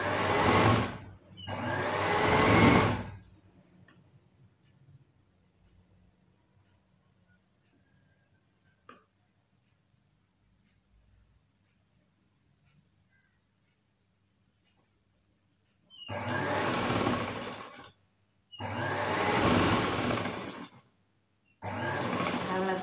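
A sewing machine stitches a blouse shoulder seam in loud, close bursts, with one run at the start, a long quiet pause, and then several more runs separated by short breaks.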